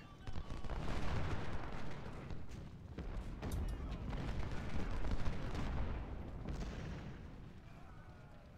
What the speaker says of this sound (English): Early's taking fire from this fort